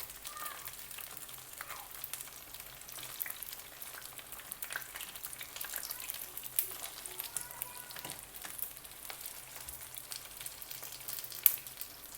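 Algerian chicken boureks fry quietly in a pan, producing a faint, steady sizzle with occasional soft pops and small handling sounds.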